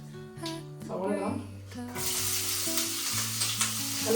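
Onions go into hot oil with popped mustard seeds for cabbage thoran in a home kitchen, bursting into a bright, steady sizzle partway through, after and under a person talking.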